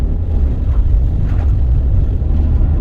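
A Volkswagen Golf engine labours uphill at low speed, giving a steady, loud low rumble heard from inside the car without talk.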